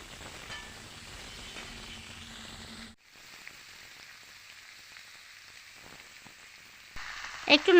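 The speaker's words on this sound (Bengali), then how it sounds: "ফোড়ন ভালো করে ভাজা হয়ে গেলে দিয়ে দিচ্ছি কেটে রাখা ওলকপি আর আলু" Cut kohlrabi and potatoes fry in oil with a five-spice tempering, giving a soft, steady sizzle that quiets midway before a few louder stirring clatters at the end.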